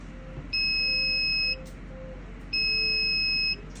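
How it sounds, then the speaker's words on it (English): A Heska fluid pump gives its end-of-battery alarm as two steady, shrill electronic beeps, each about a second long and two seconds apart, over a faint low background hum. "this will briefly alert you about a couple minutes before your pump completely dies, and it is the end battery alarm"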